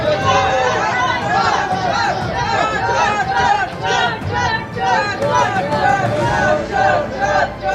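A dense crowd of local people shouting and chanting together, loud and continuous, with overlapping voices packed close throughout.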